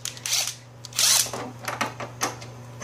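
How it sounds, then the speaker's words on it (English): A cordless power driver running in reverse to back screws out of a flat-screen LCD TV during a teardown gives several short whirring bursts, close and loud, with brief pauses between them. "What I'm going to do first is rip out the major screws by putting this in reverse."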